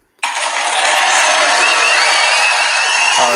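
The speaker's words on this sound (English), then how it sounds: "I want to applaud you for it." A canned crowd effect of applause and cheering on a podcast bursts in suddenly and holds as a loud, dense wash of clapping and whooping for about three seconds, then cuts off sharply at the end.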